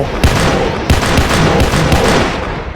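Rapid automatic gunfire from a Roblox shooter game, loud and close, with dense overlapping shots in quick bursts filling the short stretch.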